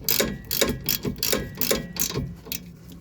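An 18mm ratchet wrench tightens a front sway bar link nut on a 2012-2017 Toyota Camry, a close, brisk run of rhythmic ratcheting clicks in short repeated bursts with no talk.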